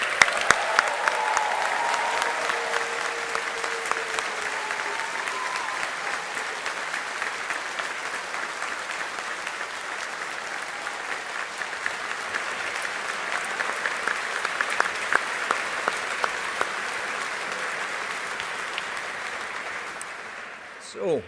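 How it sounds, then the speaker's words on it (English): Sustained applause from a large audience for a graduating class of 2024 at a university education ceremony, steady dense clapping filling the room for about twenty seconds before it cuts off. "let's give the class of 24 a big round of applause"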